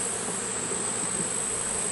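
Honey bees buzzing at an open hive brood box during an inspection, a dense, steady hum of many busy bees close up.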